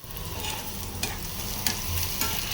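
Dried red chillies, garlic and onion fry in hot oil with a steady close sizzle, punctuated by a few sharp scrapes and clinks of stirring; no one speaks.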